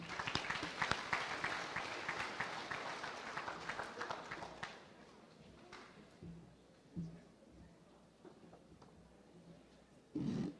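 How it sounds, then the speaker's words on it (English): Audience applause at a Kansas FFA state awards ceremony: loud, dense clapping from a large crowd in a hall that fades out after a few seconds, followed by scattered faint sounds and a brief voice. "Let's give her a round of applause."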